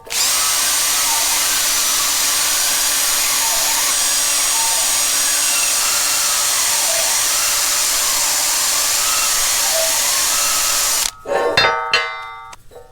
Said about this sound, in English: Next, I'll take the drill and we'll clean the rust out of the bolt holes.